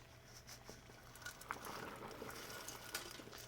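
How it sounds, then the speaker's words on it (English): Dry pasta drops into a pot of boiling water, a soft spattering rush and bubbling that swells after the first second and keeps going at a moderate level. "we have a pot of boiling water. You can see I put the lid on it to help it boil faster, and then we're just going to add our dry pasta."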